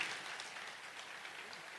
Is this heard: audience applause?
yes